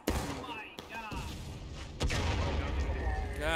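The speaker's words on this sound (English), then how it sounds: "That was a good shot from that cannon there." Cannon fire in the Civil War video game War of Rights during an evening battle at East Wood: several booming blasts, one sharp report near the start and a heavy rumbling boom at two seconds, over continuous battlefield din and scattered voices.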